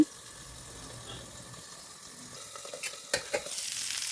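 Fish frying in oil in a pan under a lid gives a soft, muffled steady sizzle, which opens into brighter, louder crackling and a few clatters toward the end.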